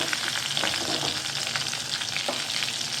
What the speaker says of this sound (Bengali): তিত করলাটা একটু ভাজা ভাজা হয়ে গেছে